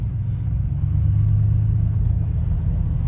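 A 1999 Ford F-150 pickup truck moving along, its engine and road noise forming a steady, loud low rumble that continues unbroken throughout with no talking.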